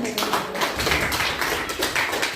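Classroom applause from a group of students, several pairs of hands clapping briskly and unevenly for a couple of seconds, close and fairly loud with no talk over it.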